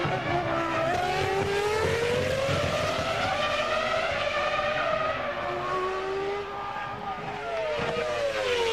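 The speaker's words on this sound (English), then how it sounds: "when the engine's coming up to just below the point where the limiter would cut in, and then the up change takes place" A 2002 Formula 1 car at the Canadian Grand Prix practice session screams loudly as its engine revs climb, then drop at each upshift and climb again, a continuous high-pitched wail with no talk over it.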